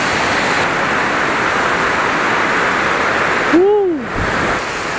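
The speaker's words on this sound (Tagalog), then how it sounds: "Grabe yung waterfalls dito." A powerful waterfall in Geiranger, Norway, roaring as a loud, dense, continuous rush of water close by, with a brief voice sounding over it near the end.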